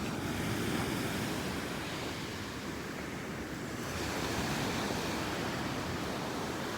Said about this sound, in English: The waves are covering all of them.